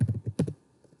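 Brief burst of computer keyboard typing while entering HTML code, several quick close clacks in a cluster that fade to quiet within about a second.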